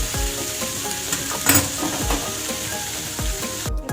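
Dried fish (shutki) fries in a pan with a continuous crackling sizzle, punctuated by several sharp spatula scrapes and knocks against the pan, close and clear, with no talking.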